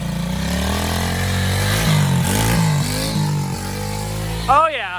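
A cheap $1000 motorcycle ridden off-road; its engine drones and revs close by under loud voices, with a sharper rising rev near the end.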